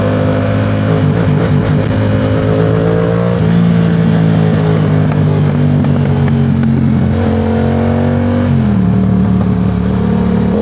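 Suzuki GSX-R 1000 sport bike engine revving loudly and close, holding a steady growl that rises and falls through a couple of throttle blips with no talk over it.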